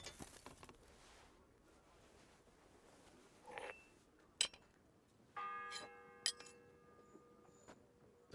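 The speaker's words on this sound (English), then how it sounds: "The first bell." A bell in the video game Kingdom Come Deliverance 2, a single faint ringing strike with a sustained metallic tone, among quiet clicks and mechanical knocks.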